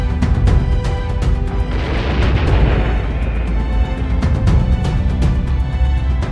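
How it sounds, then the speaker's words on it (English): A military multi-barrel rocket launcher firing in a rapid ripple: a dense, loud roar of repeated booms and whooshing blasts sustained throughout, heavy low rumble with sharp bursts, no speech. "also get to work with multi-barrel rocket launchers"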